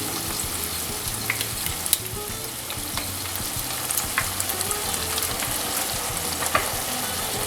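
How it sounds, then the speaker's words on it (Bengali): Sliced onion and capsicum fry in a hot pan for restaurant-style chili paneer, a steady dense sizzle running throughout with occasional stirring clicks, close and alone without talk. "তো পেঁয়াজ আর ক্যাপসিকামটা এইভাবেই ভাজবেন, খুব বেশি ভাজবেন না"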